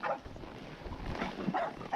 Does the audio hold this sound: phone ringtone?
no